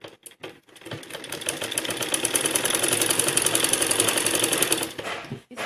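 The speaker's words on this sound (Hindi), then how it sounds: "एक सीधी सिलाई लगाएंगे" A sewing machine runs a straight seam on fabric for a fancy blouse back design, whirring steadily at close range for about four seconds after a few short starts, then stopping.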